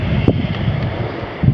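Wind buffets the microphone during a motorbike ride on a road, a loud, steady roar with a few gusty thumps throughout.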